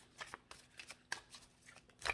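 Tarot cards being shuffled by hand, a soft irregular run of quiet riffling and slapping bursts, close and faint, with no voice over it.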